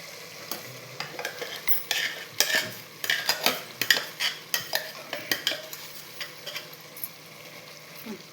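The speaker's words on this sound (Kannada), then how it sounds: "ಸೊ ಈಗ ಅದನ್ನು ಅದಕ್ಕೆ ಮಿಕ್ಸ್ ಮಾಡ್ಕೊತಾ ಇದ್ದೀನಿ." Masala is stirred into menthe bath in a pressure cooker, a spoon scraping and clinking against the metal in a quick, even series of strokes, close and clear without speech.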